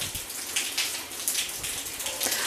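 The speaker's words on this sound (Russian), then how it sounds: "так как у нас дождик" Steady rain falling outdoors in Spain, a soft continuous patter of drops on surfaces with faint splashy texture, moderately quiet and uninterrupted.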